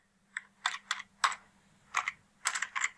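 Someone types on a computer keyboard in short, irregular bursts of crisp key clicks, close and fairly quiet, with a faint low hum behind and no talking.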